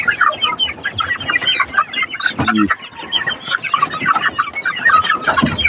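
A flock of grown chicks clucks and chatters nonstop at close range, busy overlapping calls with a few louder squawks, and no talking.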